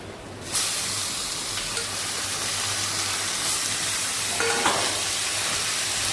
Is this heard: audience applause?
no